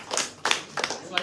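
Four separate bursts of clapping from a small audience at a KMS Talk event, each a short scatter of hand claps with quiet gaps between them.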